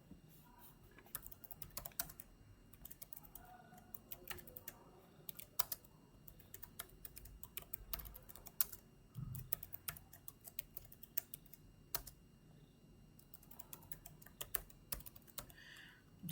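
Steady, quiet clicking of a computer keyboard as someone types out code, irregular keystrokes continuing throughout with no talking.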